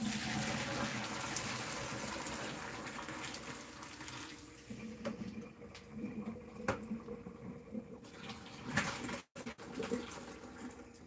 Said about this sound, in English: Let's go ahead, drain your Manicottis